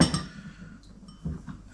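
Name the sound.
mixing a dressing for squid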